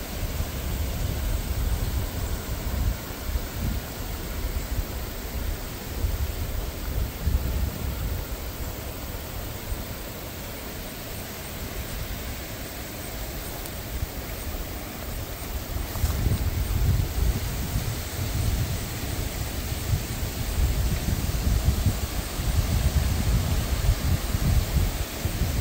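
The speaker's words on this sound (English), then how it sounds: "Look at that wind." Wind at a cemetery rushes and buffets a microphone outdoors in a constant broad roar. Low gusts swell and ease over about half a minute, with faint rustling underneath and no talking.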